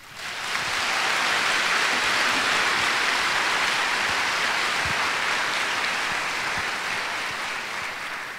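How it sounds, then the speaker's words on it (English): A large fashion-show audience applauds in a dense, sustained roar of clapping that swells quickly, holds steady for several seconds, then tapers slightly toward the end. "Would everyone please join in giving them a round of applause?"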